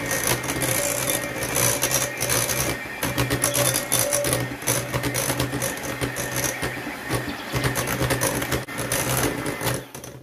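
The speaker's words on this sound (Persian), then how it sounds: "خب باز با میکسر آمیخته میکنیم اینا را." Electric hand mixer beating cookie dough with eggs for shortbread cookies, a continuous loud whirring and rattling that runs steadily through the whole stretch, close and alone.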